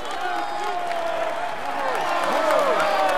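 A crowd applauds and cheers for the Tour de France white jersey winner, steady dense clapping with whoops and whistles, while a voice talks over it.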